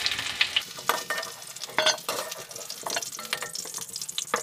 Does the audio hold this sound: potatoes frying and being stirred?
yes